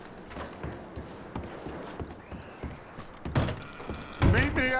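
Horses' hooves clop irregularly across hard ground in the Red Dead Redemption 2 video game, close and moderately loud, with thuds and a final louder clatter, while voices talk beneath.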